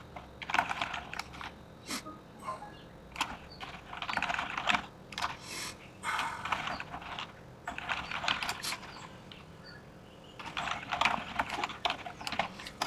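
Rapid clatter of typing on a computer keyboard while a prompt is entered into ChatGPT, coming in quick bursts with short pauses, close and fairly clear, no talking.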